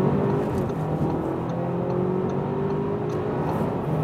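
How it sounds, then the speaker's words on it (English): Car pulling hard from 40 km/h in an Audi A4, BMW 3 Series or Mercedes C-Class comparison run, a steady loud engine drone with rising harmonics as it accelerates, heard from inside the cabin with no pauses. "we'll start from 40 kilometers an hour and accelerate it out"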